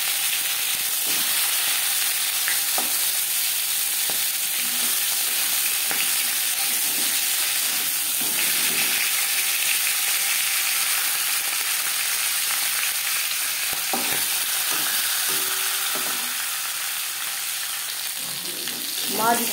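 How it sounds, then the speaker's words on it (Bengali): Pieces of silver carp frying in a small amount of oil give a loud, steady sizzling hiss close by, with a few faint clinks and stirring sounds over the crackle. "মাছ ভাজা হয়ে গেছে"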